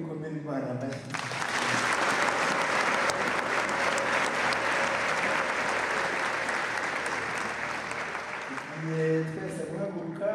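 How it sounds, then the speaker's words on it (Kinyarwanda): A church congregation claps together in a long, steady burst of applause that fills the space, with voices and some music around it, before the clapping fades out near the end. "Reka dukomere Imana amashyi"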